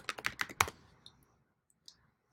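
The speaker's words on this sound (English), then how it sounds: "So simply click on the text field to start typing." Rapid keystrokes on a computer keyboard, a quick burst of close, crisp clicks that slows into a couple of isolated taps, with no talking.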